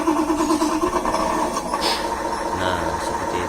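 Radio-controlled Hino dump truck toy starting up, a close, buzzy mechanical whir with rattling, ratchet-like clatter that changes pitch midway, fairly loud and continuous without any talk.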